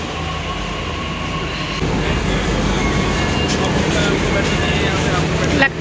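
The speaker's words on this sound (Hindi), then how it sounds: "आ गई हमारी मेट्रो, तो चलिए।" Metro train on the Gurgaon line pulling into a station, a steady loud rumble that swells about two seconds in and keeps rolling, with a brief squeal near the end.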